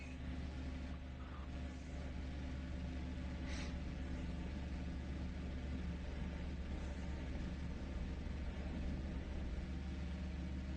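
A jet aircraft engine in a flight simulator game spools up for take-off with a steady, loud low rumble and drone that holds throughout, with no voices.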